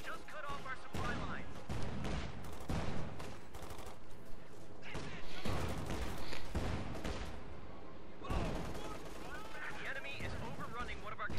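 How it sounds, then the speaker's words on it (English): Artillery shells and gunfire crash down on paratroopers in a World War II strategy game, with repeated heavy booms and bursts layered over machine-gun fire, while a commentator talks throughout. "it looks like we do see artillery coming down on the paratroopers"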